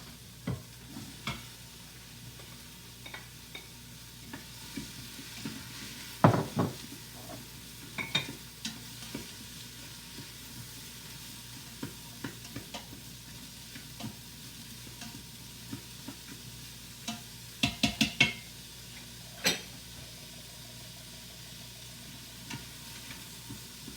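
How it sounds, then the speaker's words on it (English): Carrot, celery and onion sautéing in a pan, a low steady sizzle broken by repeated scrapes and tossing clatters of the utensil, heard up close without speech. "I'm going to give everything a good toss, and we're just going to saute it down until the veggies are starting to soften"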